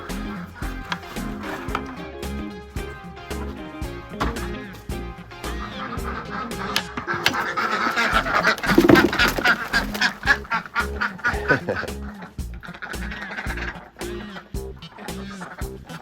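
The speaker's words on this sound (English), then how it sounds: "now we gotta let the ducks out." A flock of ducks quacks loudly and continuously, many overlapping calls close by, growing busier and more excited midway through.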